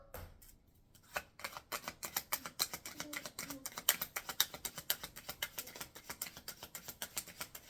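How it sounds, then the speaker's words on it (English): Cards riffled in rapid bursts as a single deck is split and each half shuffled in turn, a steady run of close, crisp clicking flutters. "And I'm taking turns shuffling each half."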